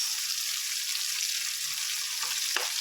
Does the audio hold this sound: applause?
no